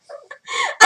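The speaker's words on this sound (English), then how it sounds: "That was my phone." A phone notification chimes briefly, a quick run of short warbling tones ending in a brighter burst, close and fairly loud with nothing else around it.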